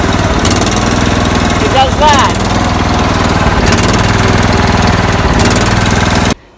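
GT225 lawn tractor engine idling with a surging fault: a loud, steady mid-pitched chug that swells periodically every couple of seconds, with someone speaking briefly over it before the engine cuts off abruptly.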